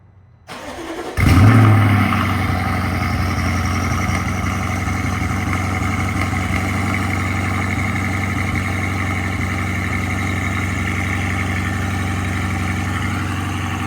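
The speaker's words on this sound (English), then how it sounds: "Downpipes are in. Let's see how it sounds for the first time." A BMW 650i with freshly installed downpipes cranks and fires at close range, surging to a loud flare before settling into a steady, deep, rumbling idle that holds evenly to the end.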